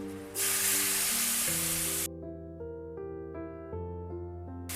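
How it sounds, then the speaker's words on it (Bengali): Oil hitting a hot kadai sizzles loudly and close for about two seconds while cooking a Bengali ridge gourd and potato vegetarian dish, then the hiss stops abruptly and a sustained background tone remains. "কড়াই আমার গরমই ছিল তো এর মধ্যে আমি একটু তেল অ্যাড করে দিলাম"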